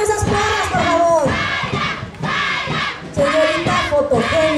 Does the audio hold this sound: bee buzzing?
no